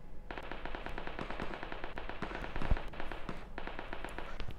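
Rapid automatic gunfire from a PUBG Mobile match rattles in fast bursts of sharp, evenly spaced shots with brief pauses between, at moderate volume and with no clear talk.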